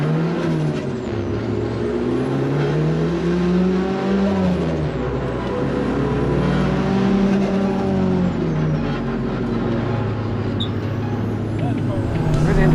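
A 430bhp Renault Clio race car with F1-style DRS accelerates down a straight, its engine a steady loud drone heard from inside the cabin, rising and falling in pitch as it pulls through the gears.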